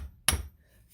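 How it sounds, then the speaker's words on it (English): A single sharp metallic tap of a hammer on a brass punch against the suspension collar of a 1997 Polaris Indy 500 snowmobile, close and brief, with quiet before and after. "Just gonna give that a little tap with a hammer"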